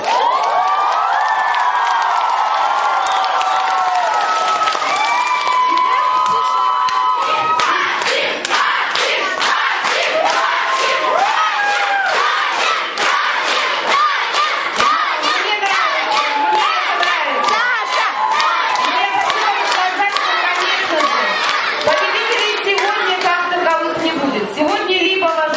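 A large crowd of children at a summer camp ceremony cheers, shrieks and claps continuously, a loud dense roar of shouting and rapid applause that holds steady throughout with no pauses.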